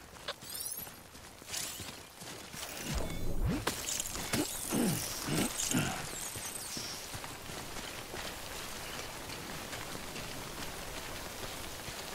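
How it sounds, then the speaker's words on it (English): Timefall rain in the video game Death Stranding, a steady hiss of falling rain with brief clattering and footstep-like knocks in the first half, moderately quiet and continuous. "prolonged exposure to timefall damages cargo containers. Don't stay out in the rain any longer than you have to."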